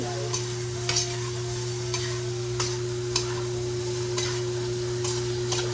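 Sliced food tossed with lots of ground pepper in a sizzling pan, spatula scrapes and clacks landing every second or so over a constant frying hiss and background hum, nearby and without voices.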